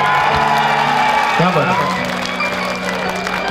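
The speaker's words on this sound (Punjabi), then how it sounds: "ਦੋਵੇਂ ਹੱਥਾਂ ਨਾਲ ਉੱਪਰ ਕਰਕੇ ਨਾ ਦੱਬ ਕੇ ਤਾੜੀ ਠੋਕੋ" The crowd at a live Punjabi music show in Pharala claps and cheers steadily while someone speaks over the noise.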